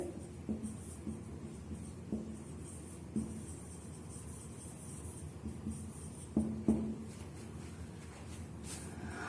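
Marker or chalk scratching across a classroom board while a science definition is written out, as soft strokes with a few firmer taps, close and fairly quiet over faint room noise.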